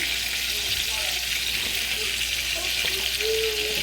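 Flour cooks in pork chop grease for gravy, giving a continuous soft sizzle and bubbling in the pan, with faint voices in the background.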